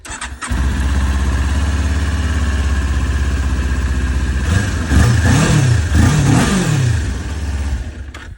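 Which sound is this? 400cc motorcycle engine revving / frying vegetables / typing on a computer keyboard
400cc motorcycle engine revving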